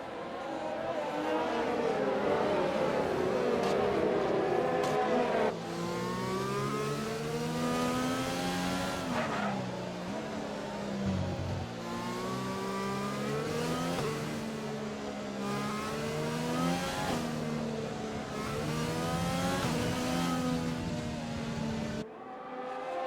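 Open-wheel race cars in an RSF1 league racing game at an Italian circuit, engines droning loud and continuous with rising and falling pitch through shifts, a hard cutoff near the end.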